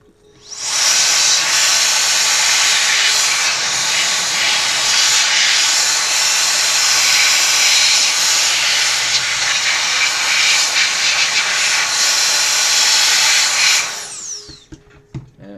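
Aerosol spray can blasting a long, loud, steady hiss for about fourteen seconds while flushing out a dead Xbox 360 fat console with the red ring fault, then cutting off abruptly.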